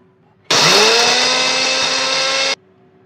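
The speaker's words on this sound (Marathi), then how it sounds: "ही अशीच कोरडी आता आपण वाटून घेऊया." Mixer grinder grinding dry spices with cumin and red chilli for a spicy chutney, a loud steady whirring roar starting abruptly and running about two seconds before cutting off, with no talk.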